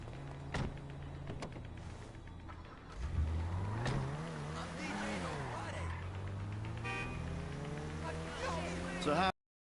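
A car in GTA V cruises along a highway with engine tones rising and falling and a brief horn-like toot, steady and moderately loud beneath game dialogue and a talking voice.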